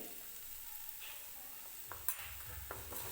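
Spice masala with red chilli powder and turmeric sautés in a pan for potato kurma, a soft steady sizzle broken by a few scraping stirs of a spoon, with no voices.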